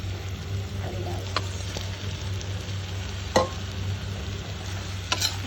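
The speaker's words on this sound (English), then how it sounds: "And fry both of these together." Bitter gourd (karela) frying with tomatoes in a pan, a steady low sizzle with occasional stirring clinks and scrapes, close and moderately quiet, no talking.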